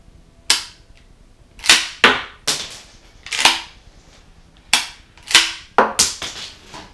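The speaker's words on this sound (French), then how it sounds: "petit mouvement de pompe arrière et avant" APS airsoft pump-action shotgun racked back and forward repeatedly, about a dozen crisp plastic-metal clacks in quick pairs, close and loud, with no talking.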